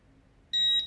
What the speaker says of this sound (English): Now, they will beep and pick up various bits and pieces.